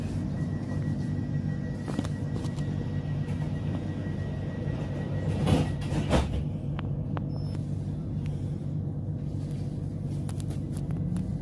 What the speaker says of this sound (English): Welcome aboard C2C rail service to Fenchurch Street.